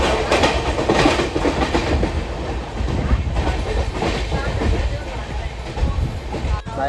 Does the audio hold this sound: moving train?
yes